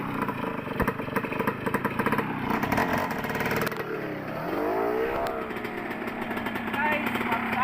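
Motorcycle engine on a trail ride, a rough close putter rising and falling under people talking.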